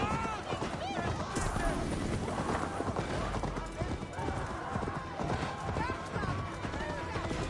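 A horse gallops with rapid clip-clop hoofbeats in the video game Assassin's Creed Valhalla, a steady drumming run with an occasional whinny, playing under someone talking in Italian and game ambience.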